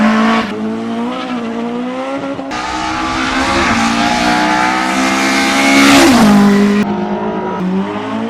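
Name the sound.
1960s race car drifting at speed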